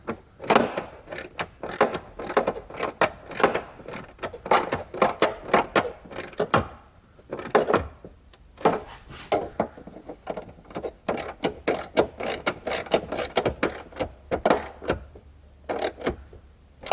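Rapid ratcheting clicks from a socket wrench while installing a Dakota Digital gauge cluster in a 1991 Fox-body Mustang, close and in quick bursts with short pauses.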